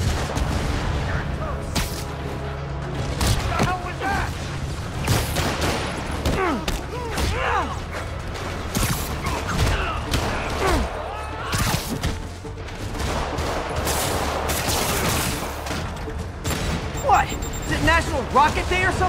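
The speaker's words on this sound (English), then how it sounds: "More rockets? A little excessive, don't you think?" Rockets launching and bursting in Marvel's Spider-Man, a dense barrage of loud booms and crashes with repeated impacts layered over game music and voices throughout.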